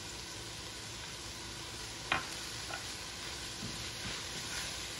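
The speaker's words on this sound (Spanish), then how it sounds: "Y así casi enseguida le voy a poner la zanahoria. Los vamos a dejar freír un poquito." Carrots and other vegetables fry in a pot for broccoli soup, a steady soft sizzle with a sharp clack of the spoon against the pot around the middle and lighter stirring scrapes after.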